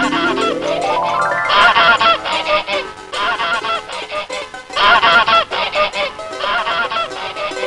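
Repeated goose honks voiced in an animated children's moral story about a goose laying golden eggs, loud, coming in bursts over a steady musical background with no talking.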